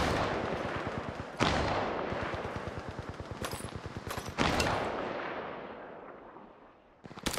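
Rapid automatic gunfire in a video game shootout, loud continuous bursts with sharp restarts and brief pauses near the end, no voices over it.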